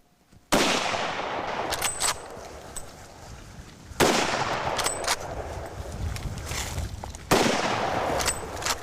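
Rifle gunshots during a buffalo hunt in Australia, three loud separate blasts a few seconds apart, each followed by a long rolling echo across open country.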